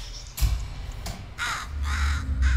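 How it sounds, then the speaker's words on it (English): A crow in the video game Portal Stories: Mel gives several loud, harsh caws in a short burst, close by, over a low hum. "The crow, actually."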